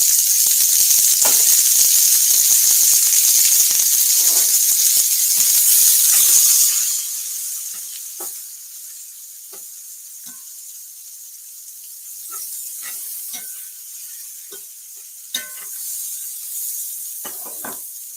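Onions hitting a hot pan with meat drippings for fajitas: a loud bright sizzle and hiss that surges at first, then drops to a quieter steady crackle with scattered pops.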